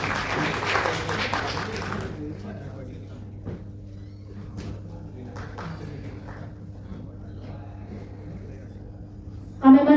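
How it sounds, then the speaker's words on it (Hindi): Applause from the audience at an Indian award ceremony rings out loudly for the first two seconds, then fades to a quiet hall with a low hum, a few faint knocks and a sharp thump near the end. "जोरदार तालियां बजाइए सभी।"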